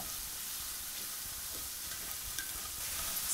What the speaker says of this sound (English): stir frying this, sautéing it. Even if it sticks to the bottom, allow it to get nice and opaque and absorb that olive oil, garlic, and leek